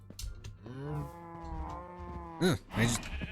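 Minecraft cow giving a long, drawn-out low moo, followed by a couple of short bleating calls from a nearby sheep, clear and close over a quiet game background.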